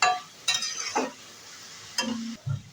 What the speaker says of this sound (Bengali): কাশ্মীরি লঙ্কার গুঁড়ো, ভালোভাবে নেড়ে সিম জাল করে ঢেকে রাখবো।